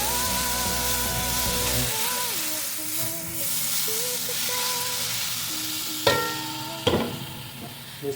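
A pot of trevally fish head sinigang soup simmers with a steady broad hiss and bubbling, closely heard and fairly loud, with a few sharp knocks near the end.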